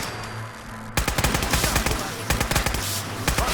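A high-recoil gun in Fallout 4 fires in rapid automatic bursts, loud and close, with a brief gap before the shooting resumes at the same fast rhythm.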